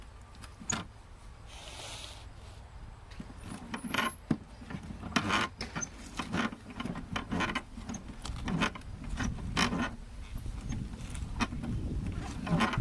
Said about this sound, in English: Now we're gonna grind up some relish.